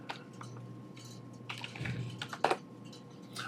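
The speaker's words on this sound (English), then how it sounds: "So I might type in here Mortgage Specialist" Fingers type on a computer keyboard, a quick irregular patter of soft clicks close up, with a slightly louder keystroke near the middle, over a faint steady hum.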